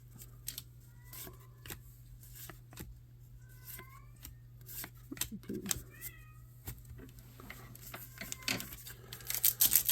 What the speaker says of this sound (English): If you happen to hear a cat in the background,